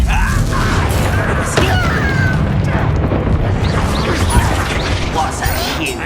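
The Confringo blasting spell goes off in Hogwarts Legacy as a loud, dense burst of explosive crackle and mechanical clatter, heard over steady game ambience.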